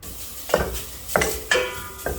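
Pumpkin stir-fried with a splash of water in a pot: a utensil clinks and scrapes against the pot four times in an uneven rhythm, close and crisp, with faint cooking noise between strikes.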